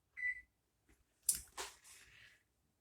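A kitchen timer is set while pecans are candied, giving a short electronic beep followed by a few quick clicks and button presses, close and quiet with no speech.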